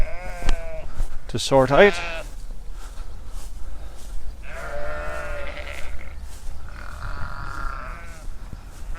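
A mature sheep flock bleats restlessly after their lambs have been taken away, several loud close calls overlapping through the stretch, with someone speaking briefly among them.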